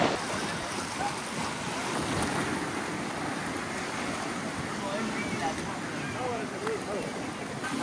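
Sea waves breaking against rocks on a Marsa Matruh beach make a steady, dense rushing wash with wind noise on the microphone, continuing evenly throughout.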